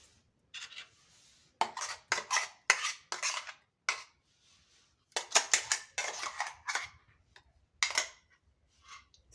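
Ground coconut paste being scraped out of a mixer jar into a cooking pot, a close run of irregular metallic scrapes and clinks in short bursts with quiet gaps between, no voices.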